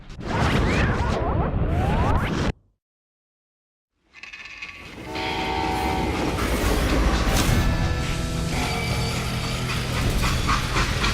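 A video game train rumbles and clacks along loudly, cuts to silence for a moment, then its heavy rolling noise returns and continues steadily.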